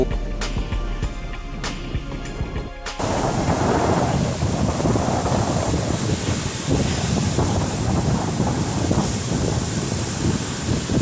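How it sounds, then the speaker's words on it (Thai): Strong night wind at Jomtien Beach, Pattaya, roaring steadily across the microphone with surf wash beneath, after a few brief knocks at the start. "ลมแรงมากเลยนะคะ ช่วงนี้ตอนกลางคืนนะคะ"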